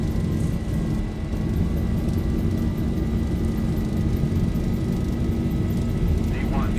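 Airliner engines roar steadily through a takeoff roll, a loud continuous rumble that fills the whole clip.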